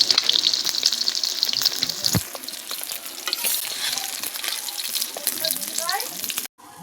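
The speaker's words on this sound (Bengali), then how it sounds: "বাদ বাকি মাছগুলো আমি ভালো করে লাল লাল করে ভেজে নেব।" Pieces of rohu fish fry in hot oil with a dense, loud, continuous sizzle and occasional stirring. The sound cuts out briefly near the end.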